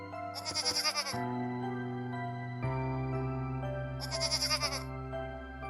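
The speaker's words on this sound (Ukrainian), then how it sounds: "Так, це коза." Two quavering goat bleats a few seconds apart, each wavering rapidly, over a soft background of sustained musical tones in a children's lesson on domestic animals.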